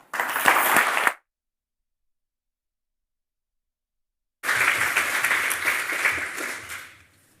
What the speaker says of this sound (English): Let's give a huge round of applause to all of the youth representatives who hosted those sessions